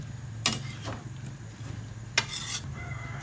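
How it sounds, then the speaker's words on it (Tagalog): Sautéed chayote stirred in a pan with a utensil, giving two distinct scraping clinks against a low steady background hum, fairly quiet and close with no talking. "Saka natin haluin para magpantay po yung lasa niya bago natin takpan."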